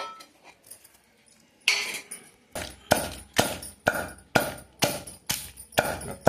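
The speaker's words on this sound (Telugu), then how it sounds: "ఇప్పుడు ముందు కల్లుప్పు దంచుకోవాలండి" Rock salt pounded in a stone mortar in a village kitchen, a steady series of about eight loud, sharp thuds at a regular rhythm, each with a brief gritty crunch, following some lighter preliminary taps.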